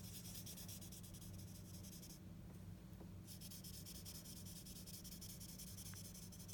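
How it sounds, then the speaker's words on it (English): A blending stump lightly rubbing graphite across paper makes a faint, continuous, close-up whispery friction sound that stays steady for several seconds, with a brief lighter dip partway through. "I'm barely touching the paper right now with my blending stump."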